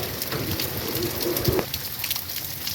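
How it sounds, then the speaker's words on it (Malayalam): Steady rain in Rajasthan patters on a surface in a continuous hiss, with a pigeon cooing softly nearby. "ഈ രാജസ്ഥാനിലൊക്കെ അപൂർവമായി പെയ്യുന്ന മഴയാണ്"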